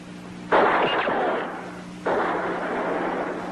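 Two loud booming gunshots about a second and a half apart, each with a long echoing rumble trailing off.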